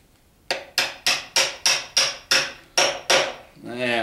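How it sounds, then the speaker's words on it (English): Small hammer tapping an engine part into a tight fit during a Chevy 350 engine rebuild: nine sharp metallic strikes at a steady pace, close and clear, followed by a brief scraping sound. "Sometimes you have to tap on this thing to get it to seat."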